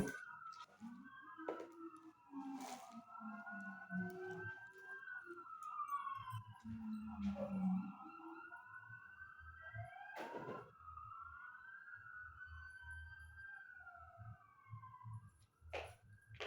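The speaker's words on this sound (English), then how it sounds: "police sirens just came by" A siren wails with rising and falling tones throughout, moderately loud, as traffic noise and a low rumble continue underneath.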